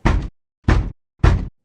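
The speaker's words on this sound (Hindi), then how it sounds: "और फिर वही दस्तक।" Three loud, evenly spaced knocks on a door, each a short heavy thud-like burst with a pause between, heard alone in a Hindi horror story.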